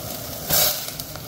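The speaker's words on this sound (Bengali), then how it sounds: "এখানে স্যুপটা ফুটছে" A bubbling, hissing simmer of ramen soup boiling in a pot, swelling briefly louder midway with soft pops.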